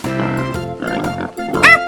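A pig oinks in a few quick, close grunting bursts on a farm, loud and clear with no talking.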